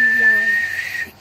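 A human voice imitates a sport motorbike whistling past, a single sustained high whistle lasting about a second that holds steady and then cuts off, close and fairly loud.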